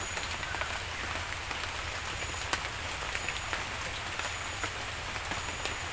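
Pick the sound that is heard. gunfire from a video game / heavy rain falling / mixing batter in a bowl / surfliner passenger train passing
heavy rain falling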